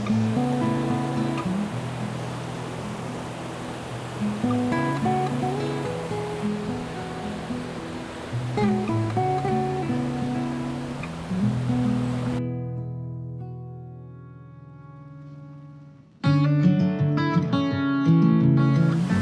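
Fast water rushing along the River Lyn, a small West Country stream in Exmoor near Watersmeet, roars as a steady, loud broadband wash. It breaks off abruptly partway through and then returns at full strength, with no voices.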